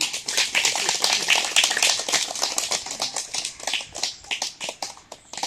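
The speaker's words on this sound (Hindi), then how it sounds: "तो सबसे पहले आप सभी के लिए तालियां" Audience applause at a health camp, a dense burst of many hands clapping loudly for several seconds and gradually thinning toward the end.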